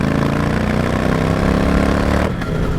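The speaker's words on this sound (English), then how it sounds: "as soon as you want it to make some noise, boy does it" A Triumph Speed Twin 1200 motorcycle fitted with an Akrapovic exhaust runs loud and close with a steady, throaty engine note. It holds for a couple of seconds, then briefly drops off.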